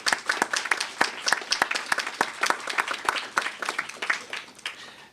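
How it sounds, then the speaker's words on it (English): Modest applause from a small audience at a mayoral press event on school test results, individual claps clearly distinct and fairly close, continuing steadily for several seconds. "I'd like to give them an applause."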